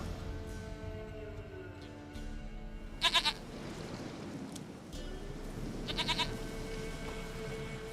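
Goat bleating in The Witcher 3 game, two short wavering bleats a few seconds apart, heard over steady outdoor ambience with no talking.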